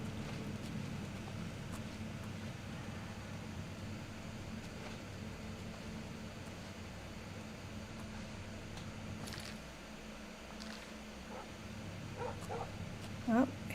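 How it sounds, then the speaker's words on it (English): A dog barks in Oblivion Remastered, a few faint, distant barks arriving late amid quiet, low game ambience. "Oh, I hear a dog barking."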